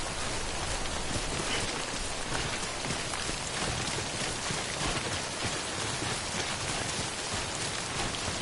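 Timefall rain in the game Death Stranding pours steadily, a dense even hiss of drops on surfaces with no break, alone and moderately loud throughout.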